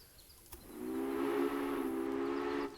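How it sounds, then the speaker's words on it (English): A steam locomotive whistle from the railway building game Railway Empire sounds as one sustained, fairly loud blast lasting about two seconds, with no talking over it. "Blow the whistle on it."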